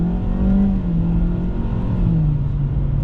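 A 2023 Kia Forte with a CVT transmission accelerating hard, its engine droning loud and close from inside the car in a steady, rising whine with no talk.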